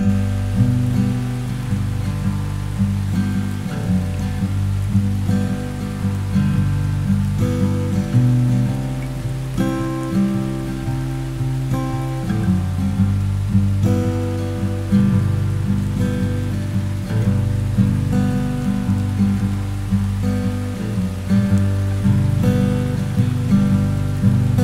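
Steady rain falling outside, a dense continuous patter of drops on surfaces, loud and even throughout with no voices.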